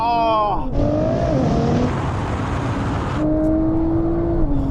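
Nissan GT-R Nismo engine loudly bogging down as it pulls away at a drag race, a sustained dense roar with shifting engine tones that falter and drop in pitch, with voices over it.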